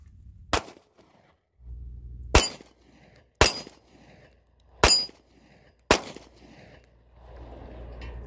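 Five sharp gunshots from a Hellcat Pro pistol ring out one at a time, spaced a second or so apart, each loud crack trailing into a brief echo.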